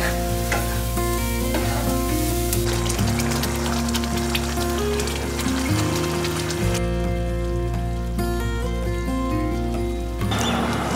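Young jackfruit pieces and shrimp frying in a pan for a Bengali dish give a continuous loud sizzle. Stirring scrapes and clinks run through it, with brief shifts in intensity and no speech.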